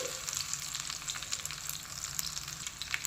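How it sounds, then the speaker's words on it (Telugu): Mustard seeds, urad dal, a dried red chilli and four or five garlic cloves sizzle in hot oil, a loud continuous close frying hiss with sharp pops and crackles from the seeds. "ఇప్పుడు ఇందులో కొంచెం ఆవాలు, మినప్పప్పు, ఒక ఎండుమిరపకాయ, ఒక 4-5 పాయల తెల్లగడ్డ అండి"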